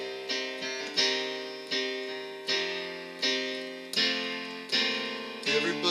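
Piano plays a short two-measure passage moving from verse to chorus of a song, rich chords struck in a slow, regular pulse and left ringing, close and solo without speech.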